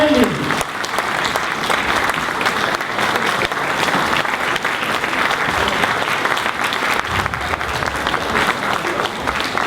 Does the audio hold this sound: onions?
no